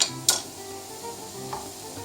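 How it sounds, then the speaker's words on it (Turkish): Minced meat and onions sautéing together in a pan, a soft steady sizzle with a couple of sharp utensil clicks against the pan. "kıymamızı ve soğanımızı birlikte kavuracağız"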